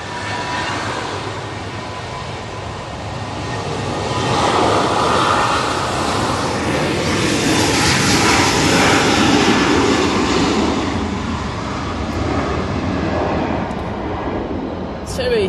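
TUI airliner on its takeoff roll at windy Manchester Airport, a broad distant jet roar that swells through the middle and eases off, with wind noise throughout.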